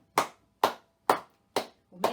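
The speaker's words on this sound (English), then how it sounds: "clap your hands again." Five sharp hand claps in a steady, even rhythm, close and clear with no talk, the last one slightly softer and smeared.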